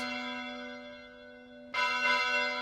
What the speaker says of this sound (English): The nearby church was ringing its bell.